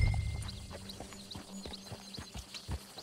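Horse hooves clip-clopping in the video game Red Dead Redemption 2, a steady walking rhythm of clear hoof strikes at close range, fairly quiet, with no talk over them.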